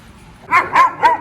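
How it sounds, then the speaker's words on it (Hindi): A dog in a hostel gives three quick, sharp barks in close succession after a brief quiet start, loud and close, with no talking. "गुर्राने को मना किया ना तुझे"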